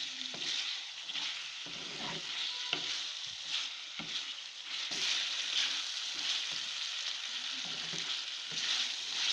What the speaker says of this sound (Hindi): अब टमाटरों को अच्छी तरह भूनेंगे।